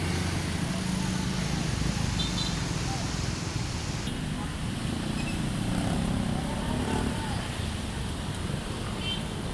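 A PO Sahabat SR3 HD Prime intercity bus passes along a busy road, a steady loud engine and tyre roar blending with continuous traffic noise and wind throughout, with people talking faintly in the background.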